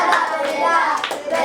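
A class of young children clapping together in a Grade 2 classroom, a quick close burst of hands with bright rhythmic slaps.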